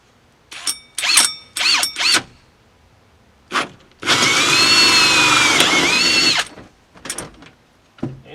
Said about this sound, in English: I'm sure the insulation on the other side is going to have a fit when I start drilling into it.